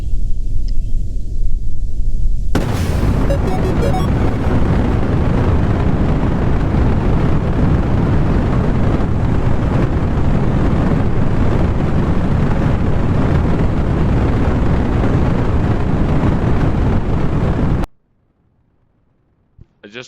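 Rocket engine roaring in the video game Kerbal Space Program, a loud broadband rumble that starts abruptly, holds steady for about fifteen seconds, then cuts off suddenly.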